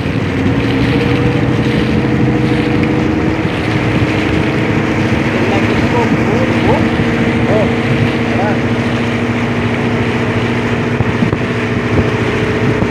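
The V10 engine of a large wooden outrigger boat runs on test, a loud, steady, close droning rumble that holds evenly throughout while voices speak faintly over it.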